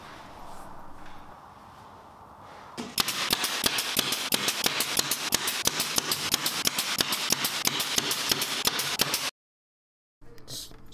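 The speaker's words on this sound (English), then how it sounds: "then we'll brad nail it in place" A brad nailer fastens a plywood drawer bottom in a workshop, firing a long, rapid, evenly spaced run of sharp pneumatic pops before falling silent.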